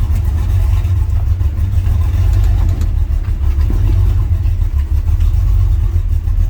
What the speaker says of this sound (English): When you're driving your LSS10 past your other LSS10